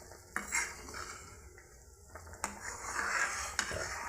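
Egg and potato curry being cooked in a pan at home, with scattered metal spoon clinks and scrapes against the pan over a faint low sizzle, close by and without speech.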